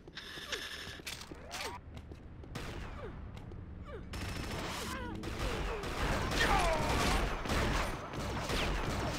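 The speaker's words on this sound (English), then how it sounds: "They're rocket spamming now." Rapid weapon fire and explosions from an Unreal Tournament assault match, including rocket launcher shots, crackle in dense bursts with mechanical clicks, continuous and fairly loud throughout.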